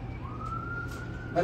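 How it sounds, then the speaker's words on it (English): An ambulance siren sounds outside during home cooking of lobster tails and seafood, a steady wailing tone holding for over a second at moderate level, with other kitchen noise and a brief louder sound at the end. "It's ambulance outside,"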